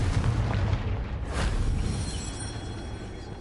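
In the Hogwarts Legacy video game, a Confringo fire spell bursts in a muffled explosion, a low booming rumble with a sharper crack in the middle that fades into a lingering roar.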